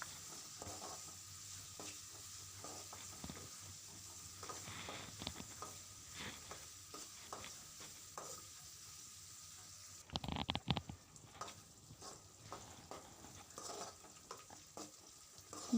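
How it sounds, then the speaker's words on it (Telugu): Green chillies and curry leaves frying in a pan, a quiet, uneven sizzle with scraping stirs and a louder burst of crackling midway, no talking. "అలాగే కరివేపాకు, ఇవన్నీ వేసుకొని కొంచెం ఫ్రై చేసుకోవాలి."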